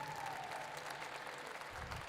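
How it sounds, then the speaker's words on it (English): An audience at the Champions for Children 2022 charity show applauds, a soft, continuous patter of many hands clapping from the crowd. "Give him a big round of applause for helping me up here tonight."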